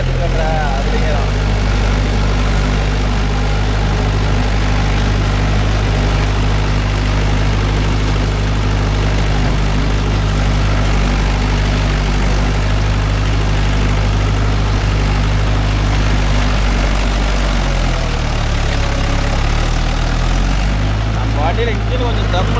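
A Mahindra 575 DI tractor engine with a weak, underpowered motor runs steadily in muddy rice paddy work, a loud continuous low drone with a brief dip near the end and speech faintly over it.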